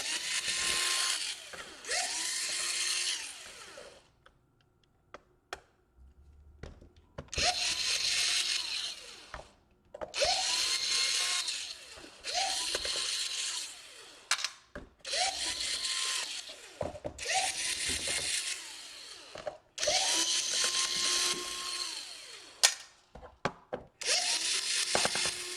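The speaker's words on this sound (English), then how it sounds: "and then you unscrew the screws" A power screwdriver removes screws from the bottom of an HP EliteBook 840 G3 laptop, giving repeated whirring bursts of a few seconds each, separated by short quiet gaps and faint handling clicks.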